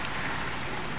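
Steady rain falling outdoors near a highway in a heavy downpour, a dense, even hiss with no breaks over a very brief moment.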